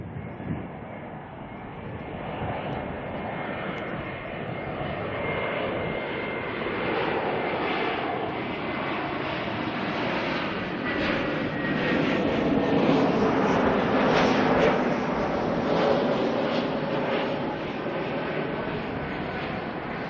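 Airliner in Star Alliance livery arriving at Auckland Airport, its engines a loud, broad roar that swells slowly and holds steady for the whole stretch.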